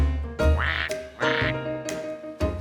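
Cartoon ducks quack in a run of four loud, nasal calls, spaced unevenly and close up, with no talk.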